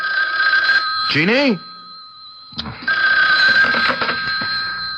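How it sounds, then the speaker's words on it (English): An old-fashioned telephone bell rings loudly in a radio drama scene, with a harmonic ringing tone running through most of the clip, briefly breaking off before resuming, while a voice speaks over it. "you'd better answer the phone"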